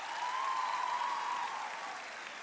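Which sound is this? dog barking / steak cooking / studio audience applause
studio audience applause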